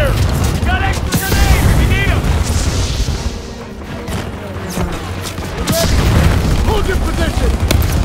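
Heavy combat in Call of Duty WW2: loud continuous gunfire and booming explosions crash throughout, while soldiers shout orders over the din.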